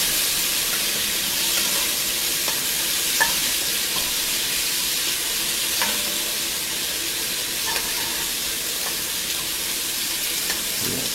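Celery frying in a pan, heard as a continuous close, even sizzle and hiss with faint scattered ticks and pops, steady throughout without voices.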